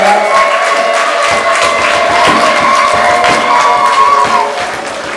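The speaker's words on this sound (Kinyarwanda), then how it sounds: "Ngaha amashyi menshi n'impundu dushimira Imana." A church congregation at a feast-day Mass claps in sustained applause while high, trilling ululation rises over it, loud and continuous before tapering off near the end.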